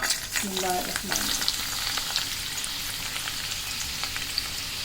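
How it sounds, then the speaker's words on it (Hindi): Onions hit hot oil with a brief stirring clatter, then a steady crackling sizzle continues, close and fairly quiet, with no talking. "तेल गरम हो चुका है, मैं इसमें प्याज शामिल करूँगी।"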